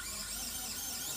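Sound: automatic electric screwdriver tightening a phone screw

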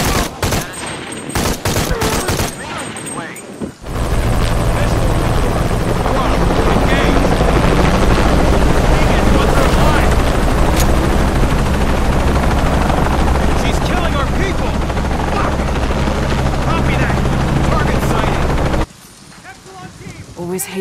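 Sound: helicopter flying in video game

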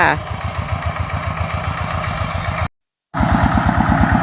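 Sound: farm tractor engine climbing up from a bridge

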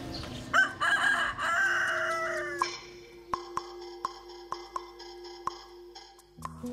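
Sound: rooster crowing

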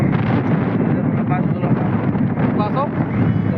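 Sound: strong wind

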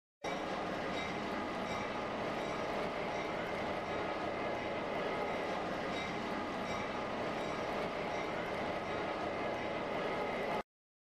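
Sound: diesel switcher locomotives pulling freight

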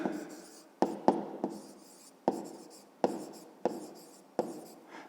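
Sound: writing by hand

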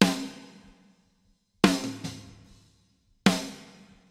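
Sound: snare drum hits after Debleeder cymbal bleed reduction

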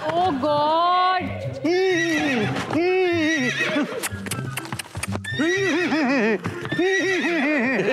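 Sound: horse neighing with hoof clip-clop on stage

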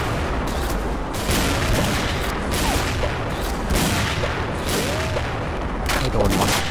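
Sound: gunfire from a sniper rifle in video game XSHOT

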